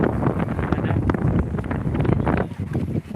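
Strong wind at Bagasbas beach buffets the microphone in rough, gusting roars that never let up, briefly easing near the end.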